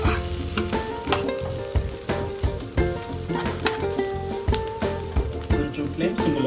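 Onions, tomato and green chillies sizzle steadily in a hot pan for a chicken curry, with repeated scraping and clattering strokes as they are stirred, close and prominent.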